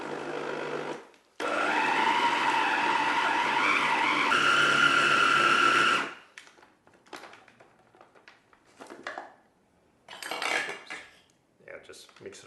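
Blender whisking a thick coconut cream bar mixture: a loud, steady motor whir lasting several seconds whose pitch rises as it spins up, then cuts off, followed by scattered clinks and scraping of the jug.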